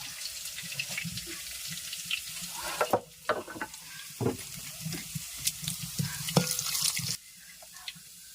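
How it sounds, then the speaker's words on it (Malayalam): Dried red chillies tossed into hot oil with curry leaves and shallots for a Kerala snake gourd curry, sizzling steadily while a spoon scrapes and stirs in bursts of clatter, close and moderately loud with no talk. "അടുത്തതായിട്ട് നമ്മുടെ മുളക് കൂടെ ഇടുക."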